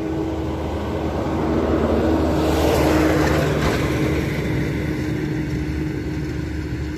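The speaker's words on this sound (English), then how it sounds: "So as this tractor drives by" A tractor drives past outdoors, a steady broad engine rumble with a low tonal hum that swells toward the middle and slowly eases, continuous and moderately near with no talking.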